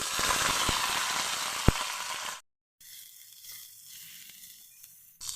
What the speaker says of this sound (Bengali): কড়াতে তেল দিয়ে আমি পনিরগুলো একটু ভেজে নিচ্ছি